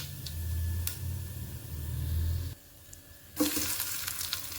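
Mustard seeds, cumin and garlic frying in hot oil for a Telugu tamarind-leaf tomato drumstick curry: a soft, steady sizzle up close, broken by a short quiet gap and then a brighter burst of crackling.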